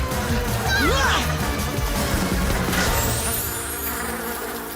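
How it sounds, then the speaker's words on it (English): A dense insect buzzing, like a swarm of wasps, from the cartoon Miraculous: Tales of Ladybug and Cat Noir, droning over other sounds and voices, with a few whooshing effects. "You can't escape my wasps!"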